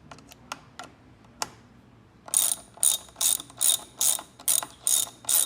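A hand ratchet tightens a bolt on a cup holder mount fitted to a 2020 Indian Roadmaster Dark Horse motorcycle: a few light clicks, then a steady run of about nine crisp, close ratcheting bursts in even rhythm.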